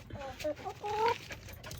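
Hens cluck in short, uneven bursts close by, with one drawn-out squawk near the end, over faint background rustling.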